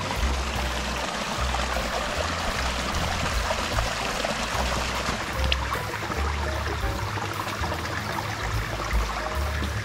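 A mountain waterfall in the Japanese Alps pours and splashes in a continuous, moderately loud rush, with a low rumble underneath and no speech.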